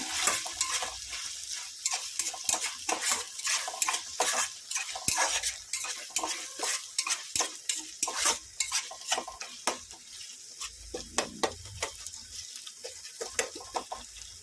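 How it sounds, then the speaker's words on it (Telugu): Ginger garlic paste fries in a pan for fish curry, giving a dense, steady sizzle close by with frequent scraping stirs and light utensil clatter throughout, and no voices. "ఇది అల్లం వెల్లుల్లి పేస్టు పచ్చి వాసన పోయేదాకా వేపుకుందామండి"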